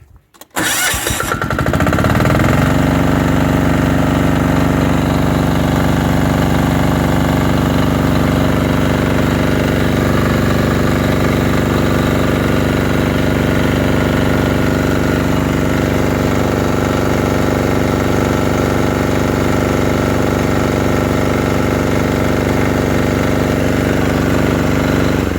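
A compactor's engine cranks and catches, then settles into a loud, steady mechanical run with a constant throbbing drone that continues unbroken close by.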